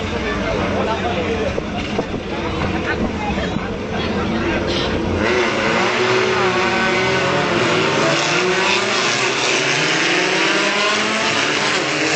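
Yamaha Formula 1600 race car engine at an MRF racing event, a loud, continuous roar with rising and falling revs throughout, as people talk over it.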